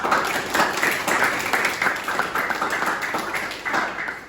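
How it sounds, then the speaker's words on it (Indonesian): A ninth-grade class applauding after a group presentation in a school lesson, a dense, steady round of many hands clapping that fills the room without pause. "Sekali lagi tepuk tangan buat kita semua."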